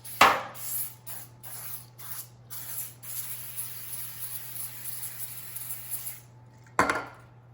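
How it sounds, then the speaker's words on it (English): Cooking spray hisses onto parchment lining a cup for a Valentine's cake. A couple of quick bursts give way to a long, even spray of several seconds, then one last short burst, close over a low hum. "I'm gonna go ahead and spray on top of the parchment as well."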